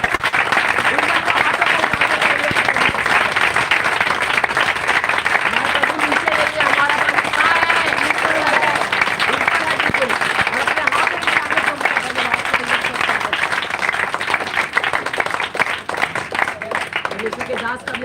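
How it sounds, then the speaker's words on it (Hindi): A church congregation claps loudly and continuously, a thick, sustained roar of many hands with no pause. Voices blend faintly into the din. "जोरदार तालियों के साथ"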